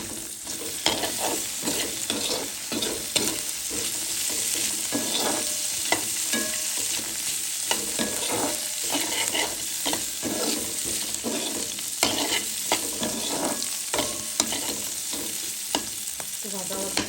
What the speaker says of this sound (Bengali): কাঁচামরিচ আর রসুন একটু ভাজা ভাজা।